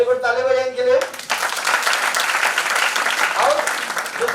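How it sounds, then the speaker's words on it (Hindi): An audience breaks into applause at a motivational talk, a second of a voice first, then a sustained wash of clapping that carries on for several seconds. "वेरी गुड, ताली बजाएं इनके लिए।"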